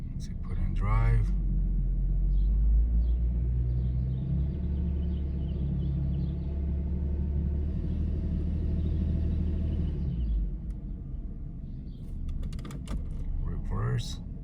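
A 2005 Chrysler 300 with a misfire idles in drive, giving a steady, close, low engine rumble that continues through the whole stretch, with a few brief clicks and knocks near the start and end.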